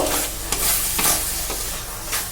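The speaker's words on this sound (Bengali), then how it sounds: "এবার একসঙ্গে সমস্ত মশলা কষিয়ে নেব" Spices with sugar sautéing in a pan for dhaba-style chicken curry, a loud continuous sizzle broken by regular spatula strokes scraping and stirring the masala.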